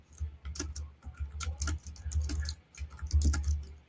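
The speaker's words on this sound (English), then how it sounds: "I just heard like the keyboard going." Rapid, uneven clicking of a computer keyboard being typed on nearby, steady bursts of keystrokes with a low background hum and no speech.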